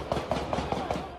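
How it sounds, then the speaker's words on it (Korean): Five sharp gunshots ring out in quick, even succession during a street brawl at dawn in a nightlife district packed with restaurants, bars and nightclubs, with crowd noise underneath. "갑자기 총성이 울리고"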